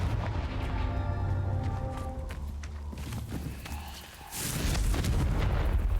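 Confringo blasting spell from Hogwarts Legacy bursting in a loud, booming explosion late in the clip, rising sharply out of a dense, rumbling game soundscape.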